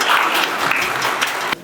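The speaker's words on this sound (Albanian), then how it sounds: "E mirëpresim me një duartrokitje." Audience applause at the 81st anniversary gathering of the Skënderbej military school, a loud, dense burst of clapping that stays even and then drops off sharply at the end.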